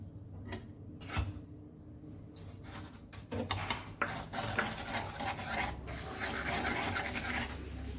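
Christmas plum cake batter with sugar and flavouring mixed in a bowl, heard as soft scraping and stirring with a few clinks of utensil against the bowl, quiet and close, growing more continuous toward the end.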